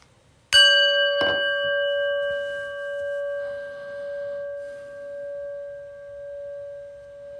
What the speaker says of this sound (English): a prayer bell.